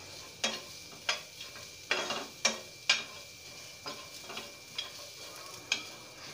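Spoon scraping through chicken masala spices in a hot pan, about ten distinct scrapes in an uneven rhythm over a faint background sizzle, close and fairly quiet, with no talking.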